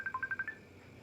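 A messenger app call rings through on a phone, a quick series of about six short electronic tones chiming in a rhythmic pattern, fairly close and clear, then fading to quiet room hiss.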